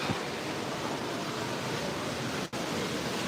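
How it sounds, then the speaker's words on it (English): Waterfall inside an aquarium, a steady, loud broadband rush of falling and splashing water close by, continuous with one brief dip near the end and no talk. "And this is where the waterfall is."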